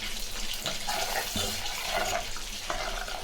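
Water pours steadily into a cooking pot while tomato curry is being made, a continuous close splashing rush with no talk over it.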